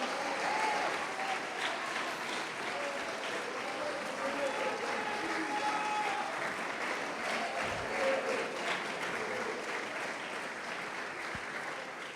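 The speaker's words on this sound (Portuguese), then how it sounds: "pode aplaudir e glorificar" A church congregation applauds and glorifies in a sustained, dense wash of clapping that stays fairly even throughout, with raised voices mixed into the crowd noise.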